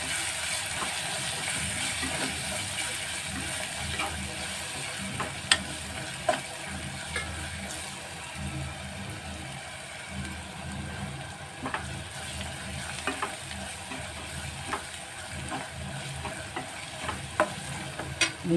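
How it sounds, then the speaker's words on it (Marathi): Spinach and potato, stirred with coriander-cumin powder, garam masala and salt, sizzle steadily in a pan, with a continuous close frying hiss and occasional scraping clinks of the spoon. "गरम मसाला आणि चवीपुरतं मीठ हे सगळं घालून आता चांगलं परतून घेऊया"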